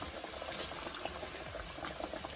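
Breaded pork chop frying in hot oil, a steady close sizzle with fine crackling and popping throughout, no voices.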